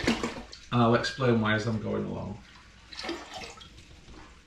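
Tap water runs into large stainless brewing pots for a home-brewed strong, hoppy IPA, a steady close rush of filling water under continuous speech.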